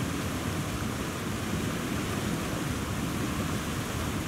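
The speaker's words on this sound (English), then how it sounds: "Is that a waterfall?" Rushing waterfall in the survival video game The Long Dark, a steady broad roar of water that stays constant and fairly quiet throughout, with no voices.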